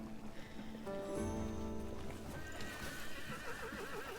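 A horse in the video game Crimson Desert clip-clops and whinnies. Hoofbeats patter steadily under a distinct neigh, and a light rain-like hiss sits behind them, fairly quiet overall.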